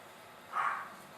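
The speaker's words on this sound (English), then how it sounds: "I think you can hear my dog" A dog gives a single short bark or yip from a little distance, a brief burst standing out over a quiet room background with no talking.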